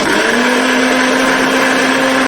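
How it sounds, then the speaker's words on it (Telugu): A mixer grinder whirs loudly and steadily, grinding dry-roasted ingredients for mango ginger pickle, then stops abruptly at the end, with no talking. "చల్లారి పెట్టాం శుభ్రంగా మిక్సీ పట్టుకోవాలి మిక్సీకి దేనికి తడి ఉండకూడదమ్మా"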